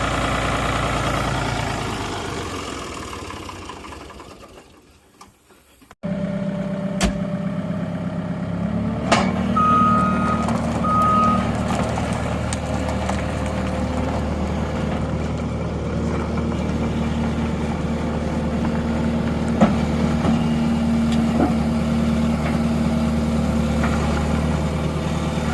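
A backhoe's heavy diesel engine idles and revs steadily while being loaded onto a trailer, starting abruptly after a brief lull, with intermittent reversing beeps and occasional metallic clanks over the continuous rumble.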